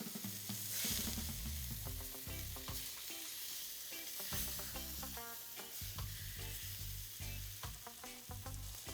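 Fish fillets, largemouth and peacock bass, fry in a pan with a continuous loud sizzle and bubbling crackle, no voices.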